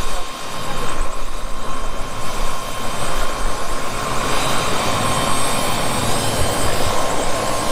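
A helicopter runs loudly nearby before a sightseeing flight over Mauritius, its engine and rotor making a steady, dense roar throughout, with speech faintly underneath.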